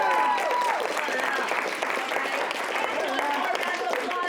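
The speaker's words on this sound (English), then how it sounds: "Can we get a round of applause for Dina?" Sustained applause from a crowd, dense and steady for the whole stretch, with a few voices and cheers mixed in.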